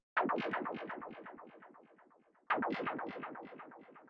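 A synthesized noise effect made with Ableton's Operator synth for tech house: bursts of rapidly pulsing, stuttering noise that sweep downward and fade, played twice in a row with a sharp restart midway.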